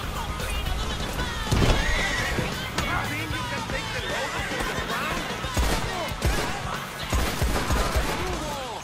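A horse whinnies amid a busy in-game Western soundscape in Red Dead Online, with hooves clattering, gunfire-like bursts and other effects layered underneath, loud and continuous.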